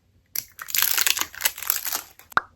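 Plastic packaging from an online Temu order crinkles and crumples up close in quick, uneven bursts for about two seconds, then ends with one sharp crackling snap.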